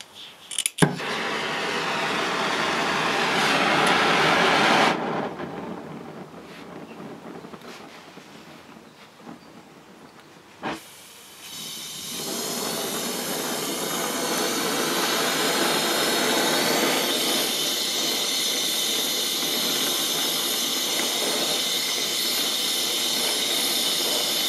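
A blowtorch roars steadily while heating a metal part in a workshop, with a brief cutoff and sharp click before the loud hissing flame resumes and holds for a long stretch.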